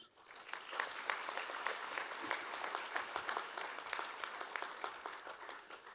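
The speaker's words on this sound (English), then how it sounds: "it would be a good idea to acknowledge them with a small round of applause" An audience at a university graduation ceremony gives graduates a round of applause, many hands clapping in a dense, moderately loud patter that holds steady throughout.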